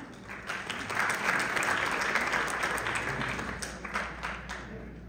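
A crowd at an award event applauds to welcome a recipient, a dense, sustained wash of clapping that swells and holds steady, fairly close, with no voices over it.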